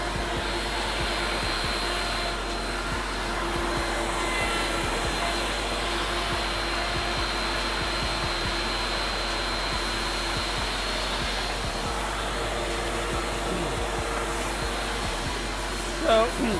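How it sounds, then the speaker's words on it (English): A small router rounds the edge of Powell Bones roller skate wheels with dust collection running, producing a loud, continuous motor drone with a high whine that holds steady throughout. "So they're radiusing the edge on a small router setup."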